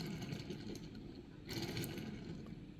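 A Hot Wheels El Segundo Coupe die-cast toy car with golden rims and wobbly wheels rolls along a surface, giving a continuous low rumbling whir with a brief louder surge midway, heard alone.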